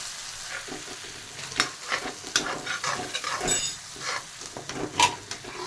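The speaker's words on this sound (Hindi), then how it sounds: "हम सरसों के साग के लिए तड़का बना रहे हैं।" Butter tadka for mustard greens sizzles and spits in a hot pan, a continuous frying hiss broken by scraping stirs and occasional sharp pops, close and moderately loud.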